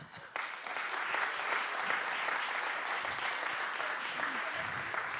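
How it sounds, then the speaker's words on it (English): An audience at a public design talk breaks into warm applause after a brief quiet start, a fairly distant but steady wash of clapping that holds for several seconds, with faint voices mixed in. "Can I get a warm applause?"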